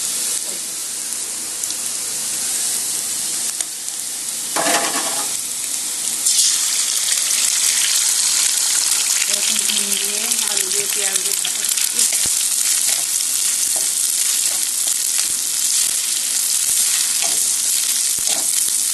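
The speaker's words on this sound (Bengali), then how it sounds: "আমার এই ভাত ভাজাটা ডিম দিয়েছি পেঁয়াজ দিয়েছি আলু দিয়েছি আর পাঁচফোড়ন দিয়ে ভেজেছি" Rice with egg, onion, potato and panch phoron fries in a pan, giving a steady hiss of sizzling with stirring scrapes. A voice is heard briefly midway.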